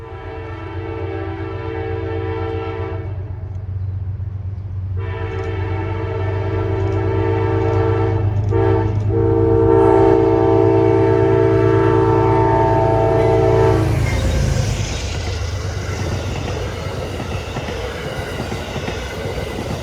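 An Amtrak Ethan Allen Express passenger train rumbles past close by, its horn blaring in long sustained blasts before the wheels and cars roar through with rushing noise.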